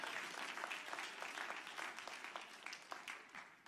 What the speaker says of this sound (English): Clap your hands and give God praise.